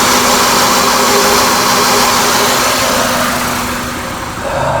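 A 2000 Honda Accord engine idles close by, a steady, loud, low hum with a faint tone running through it that eases slightly near the end, with no talking.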